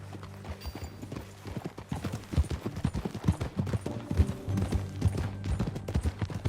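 Horse hooves clip-clop at a steady riding gait in the Red Dead Redemption 2 video game, close and rhythmic over a low droning music bed, with a faint whinny possible.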